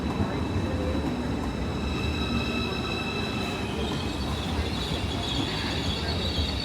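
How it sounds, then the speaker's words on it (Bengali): A Deutsche Bahn ICE high-speed train running between France and Germany gives a steady, loud rumble throughout, with faint high-pitched wheel squeal over the drone. "এটা জার্মানির নিজস্ব ট্রেন ডচ ব্যান"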